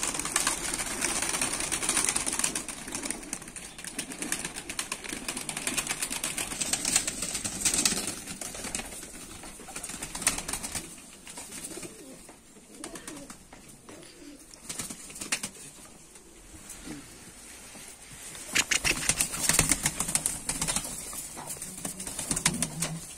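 Pigeons in a large coop give soft, low cooing throughout, with bursts of flapping wings and rustling near the start and again toward the end, at moderate volume.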